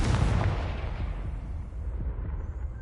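Confringo fire spell explosion in Hogwarts Legacy, with a loud booming burst at the start and a crackling, rumbling tail fading over a few seconds.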